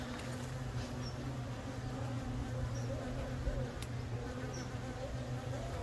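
Honeybees buzzing at an opened hive during a colony inspection for swarm cells, a steady close drone with no break, underlaid by a low continuous hum.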